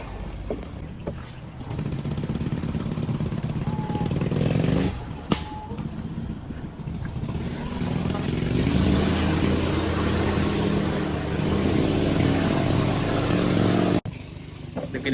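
Outboard boat motors drone steadily as eleven boats herd water buffalo across the water at Teluk Ridan, Pulau Harapan village, Muara Muntai, a loud continuous engine hum close by, with a brief break near the end.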